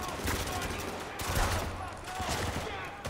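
Gunfire in the video game Spec Ops: The Line comes as rapid bursts of shots and a dense, continuous crackle, loud and steady throughout, without talking.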